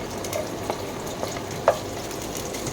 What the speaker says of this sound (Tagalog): igisa lang natin siya hanggang sa mag-golden brown na yung bawang at lumambot na konti yung sibuyas